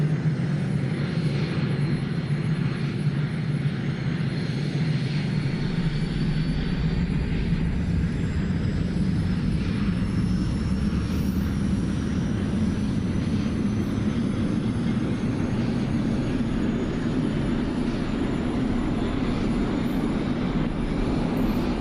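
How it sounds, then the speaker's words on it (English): An F-22 Raptor jet engine in the DCS flight simulator roars continuously at close range, a rising whine climbing steadily over a dense, loud rumble that builds as it spools up. "Ready for engine start."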